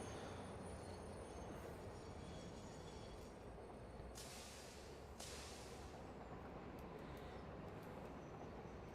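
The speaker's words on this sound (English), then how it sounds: "Gotta wait for the train to go by." A train rolls past in a video game, a steady loud rumble of wheels and cars lasting throughout, with brief bursts of brighter hiss or squeal midway.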